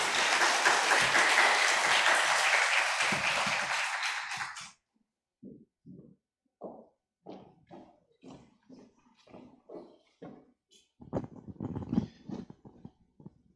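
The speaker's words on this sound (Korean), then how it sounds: "네 박수로 환영하시겠습니다." A church audience at a married couples' seminar claps loudly in welcome for a couple, sustained applause for about four and a half seconds, followed by quieter scattered sounds.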